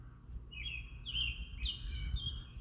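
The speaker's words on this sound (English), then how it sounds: "See this bird up on the top of that pine tree? He's the one that's singing." An unidentified bird sings from the top of a pine tree, giving a series of clear, high whistled phrases repeated every half second or so, moderately near over a low background rumble.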